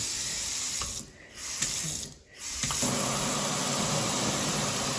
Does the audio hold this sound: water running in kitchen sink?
yes